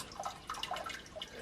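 Water trickling and dripping into a well inside a cave along a hiking trail, a quick run of bright, close drips over a soft background wash.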